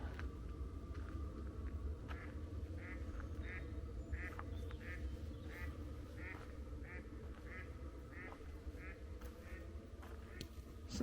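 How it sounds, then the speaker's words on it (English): Ducks quacking on a winter morning in Scotland, a steady run of short repeated quacks across the whole stretch, moderately distant over a constant low rumble of background noise. "The ducks wakening up."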